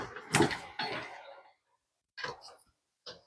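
A door makes a few quick bumping, rattling sounds close by, with two louder knocks early on and brief softer clatters after a pause.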